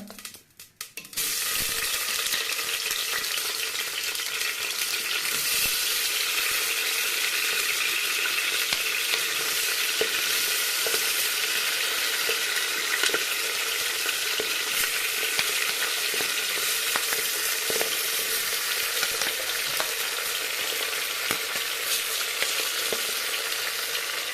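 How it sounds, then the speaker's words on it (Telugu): Tomatoes frying in oil for tomato pickle, a loud continuous close-up sizzle and crackle that holds steady throughout with faint stirring underneath, no talking. "టమాటాలు అన్నిటిని నేను ఆయిల్లో వేసి వేయించుకుంటాం"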